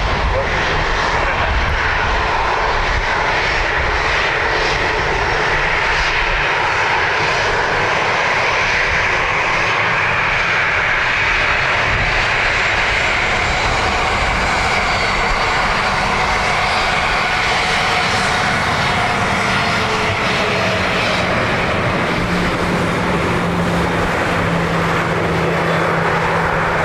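An aircraft at Dublin Airport roars with a sustained, loud engine drone that swells and holds across the whole stretch, while voices talk faintly underneath.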